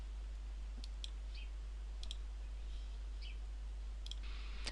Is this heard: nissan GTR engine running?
no